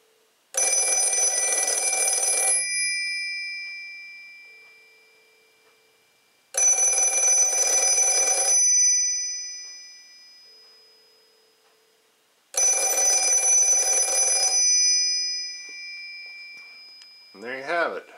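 An Automatic Electric Model 90 rotary wall phone bell rings loud and close in three long bursts of about two seconds each, separated by pauses, with a brief clatter at the end.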